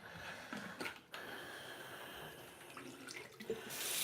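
A kitchen tap runs steadily as a water bottle is rinsed under it, a continuous close splash with a few brief bumps and a brighter surge near the end.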